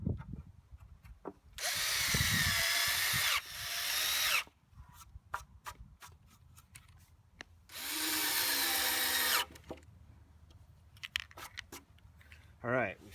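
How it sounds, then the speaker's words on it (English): Power drill pre-drilling holes and driving 2-inch deck screws into a wood plank for a raised garden bed on 4x4 posts, two long loud whirring runs with ramping pitch, separated by clanks and handling noises; someone talks between. "So I'm going to pre-drill these 3 holes and then sink them in with the these deck screws that I have"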